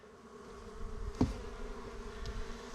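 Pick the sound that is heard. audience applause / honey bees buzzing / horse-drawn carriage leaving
honey bees buzzing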